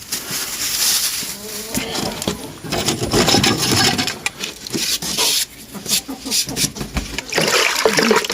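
Blue copper sulfate crystals are poured into about five litres of water in a canister, giving irregular rattling, splashing and gurgling bursts at close range, loud and uneven throughout.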